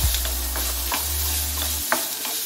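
Tomato and chillies sautéing in a pan for a village-style chutney, a steady close sizzle broken by a few sharp scrapes of a spoon against the pan, with no talking.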